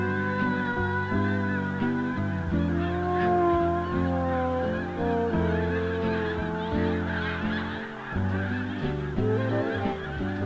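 A flock of snow geese honks as the birds come down to land, with many overlapping nasal calls in a loud, continuous chorus and no voices.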